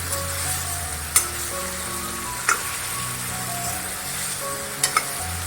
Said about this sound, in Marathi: त्याच्यानंतर शिरोळ्याच्या फोडी टाकते अलगद हाताने परतायचंय आहे